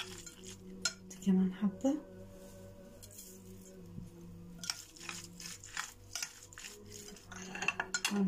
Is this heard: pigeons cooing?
no